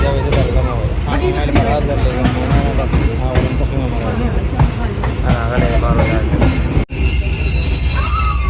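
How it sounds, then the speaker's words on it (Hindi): A train arriving at Kot Lakhpat railway station in Pakistan rumbles and clatters with squealing wheels, loud and close, as people talk over the noise. "ट्रेन हमारी अप्रोच कर रही है कोट लखपत रेलवे स्टेशन पर"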